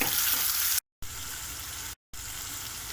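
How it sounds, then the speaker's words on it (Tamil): Tomatoes and onions sizzle steadily in hot oil, a continuous frying hiss cut off briefly twice, while being sautéed for a village-style fenugreek curry. "தக்காளி நல்லா எண்ணெய் பிரியிற அளவுக்கு நல்லா வதக்கி எடுத்துக்கணும்"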